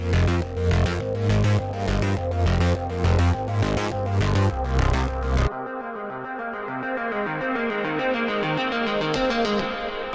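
Cyberpunk-style synth arpeggio tracking the bass line, a rapid repeating pattern over a heavy low end that drops away midway, leaving the arpeggio to continue alone with a filter slowly opening and brightening.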